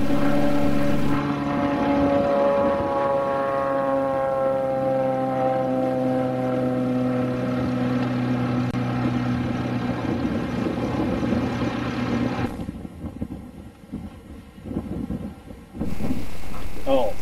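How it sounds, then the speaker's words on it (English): A Fouga 170 jet engine starts up before a check flight, a steady rising whine with strong tonal hum that holds, then drops off sharply near the end, with some background talk. "we're ready for engine start"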